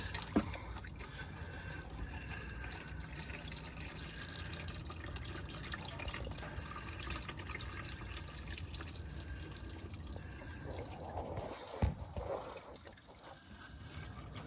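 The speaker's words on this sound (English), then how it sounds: "Okay, so I got the oil draining." Engine oil drains from a 2021 Toyota Tundra TRD Pro in a steady, close liquid pour that runs continuously, with occasional small knocks and no talking.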